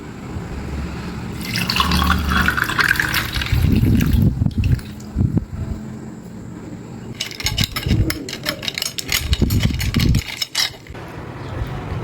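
Coconut water poured over ice cubes and sago pearls in a glass for a homemade cool drink, heard as two close, splashing pours separated by a short pause.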